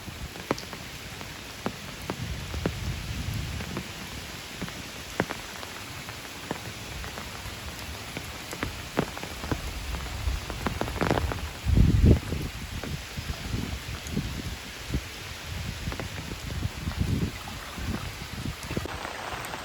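Heavy rain falls continuously on a Sri Lankan village, a dense hiss of drops with scattered louder splashes and patters on nearby surfaces.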